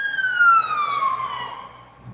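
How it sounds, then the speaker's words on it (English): Police car siren wailing in a steady descending sweep with strong harmonics, loud and close at first, then easing off and fading as it passes. "He turned the siren off once he passed me"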